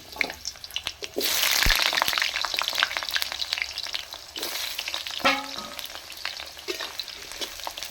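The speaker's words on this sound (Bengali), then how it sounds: "এইটাকে আমি তেলে ভেজে নেবো" Potato pieces fry in hot oil in a home kitchen, giving a steady, close sizzle with crackles and occasional stirring scrapes throughout.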